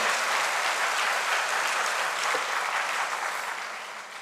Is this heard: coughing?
no